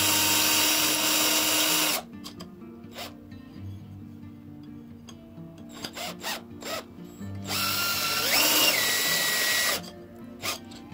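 A power drill widening a hole in a metal part for a frame reinforcement, whirring loudly in two bursts with quieter clicks and handling noises between them.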